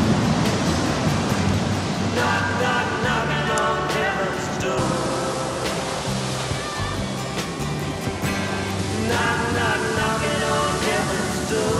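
Ocean surf breaks on a shore in a steady, loud roar of rushing water, heard up close for the whole stretch with no talk.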